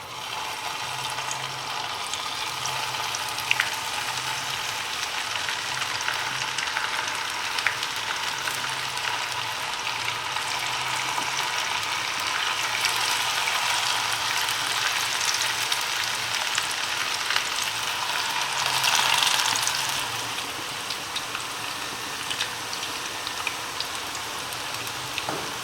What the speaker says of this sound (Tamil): எண்ணெய் சூடாயிடுச்சு, ஃப்ரை பண்ண ஆரம்பிக்கலாம்.